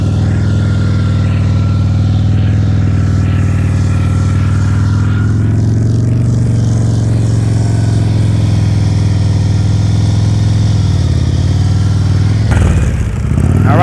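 A motorcycle engine runs loud and steady at low revs during slow-speed riding practice around cones, a close, constant throbbing drone that shifts slightly near the end.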